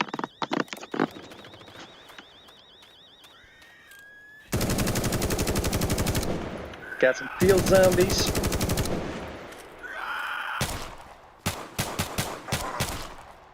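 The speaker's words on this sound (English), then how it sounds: "Nice meaty gunshots though." Rapid automatic gunfire from The Day Before zombie shooter game, bursts of heavy, punchy shots in long sustained volleys with brief pauses, a voice speaking over the action.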